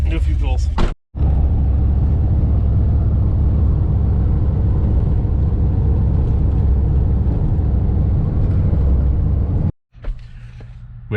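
A cammed Chevy Sierra truck with larger injectors and a Circle D stall converter, running forced open loop during tuning pulls: a loud, steady engine roar held for about nine seconds, cutting off briefly near the start and end.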